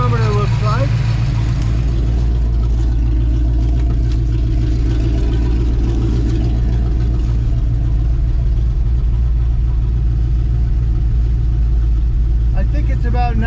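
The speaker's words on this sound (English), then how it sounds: "we got the idle up a little bit too high because I changed the advance springs" A car engine idles steadily after carburetor and ignition adjustment with changed advance springs, a loud, close, even low rumble that holds for the whole stretch, with a little talk faintly underneath.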